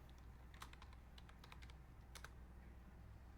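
Computer keyboard typing as names are entered in Microsoft Word: quiet, scattered clicks in short bursts over a steady low hum, with no talking.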